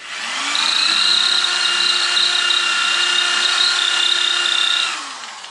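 A power drill runs steadily for about four seconds, boring holes in a shed with a bit kept cool by water spray, its whine rising at start-up and winding down at the end, loud and close with no voices.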